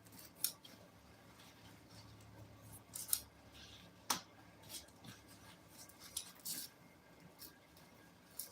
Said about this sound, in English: when I'm cutting out these patterns or cutting out this foam. It sticks to the scissors.